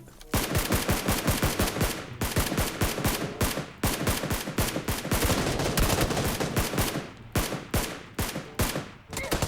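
Rapid gunfire in the PUBG Lite video game, loud, dense bursts of automatic shots rattling in quick succession for most of the clip, with brief pauses between volleys and no talk.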